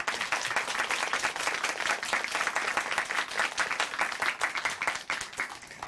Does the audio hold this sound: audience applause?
yes